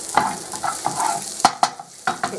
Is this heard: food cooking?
yes